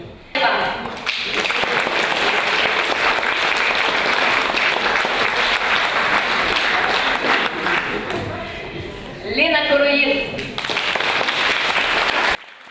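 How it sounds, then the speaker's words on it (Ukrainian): Sustained, loud applause from an audience at a children's awards ceremony fills the full stretch without easing, with a brief burst of voices or cheering near the end before the clapping resumes. "Аплодисменты не утихали."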